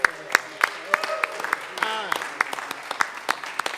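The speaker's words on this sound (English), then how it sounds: "A nice round of applause for John Hyde" Scattered, fairly sparse clapping from a seminar audience, with sharp individual claps standing out and a voice or tonal sounds weaving through the middle.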